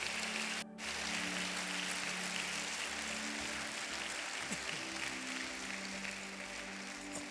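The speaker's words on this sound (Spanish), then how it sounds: "Dele un fuerte aplauso a Él que está con nosotros." Steady applause from a church congregation fills the room, a dense wash of clapping that holds at an even level throughout with a faint low hum beneath.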